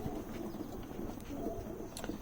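Racing pigeon in a loft giving soft, low repeated coos, faint and close, over steady background hum.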